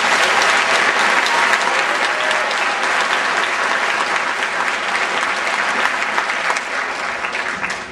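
A crowd at a basic training graduation ceremony gives the new soldiers a long, dense round of clapping, steady and loud, holding strong before thinning a little near the end.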